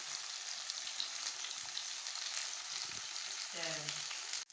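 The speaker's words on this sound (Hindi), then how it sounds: "हमने पहले 5 मिनट एक साइड हमने इसकी फ्राई की है, तो अभी हमने इसकी साइड हमने चेंज की है" Fish fries in hot oil with a steady, dense sizzle that fills the whole stretch, with a brief scrape and a short low tonal clatter near the end as the pieces are turned over.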